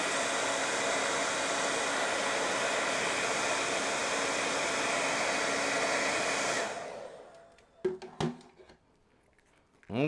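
Loud, steady airflow from a hair dryer running close by, used to soften plastic on a TMNT action figure, then switched off, leaving a few handling clicks and a brief voice.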